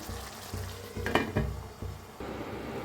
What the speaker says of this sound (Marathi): थोडी वर कोथिंबीर टाकूया आणि थोड्या वेळ शिजू देऊया आपण.